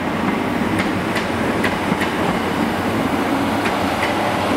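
A Class 769 train pulls into Cardiff Central station, giving a steady rolling rumble with faint rhythmic clicks and taps from the wheels over the rails. No voices are heard.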